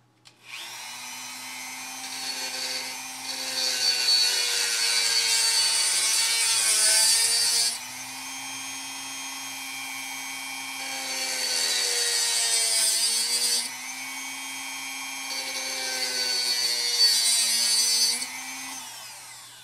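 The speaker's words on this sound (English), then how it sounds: "I'm going to use the Dremel to cut this down to size" A Dremel rotary tool cutting a metal sculpture armature to size, its high whining grind in three long passes separated by brief pauses, with pitch dipping under load, loud and close.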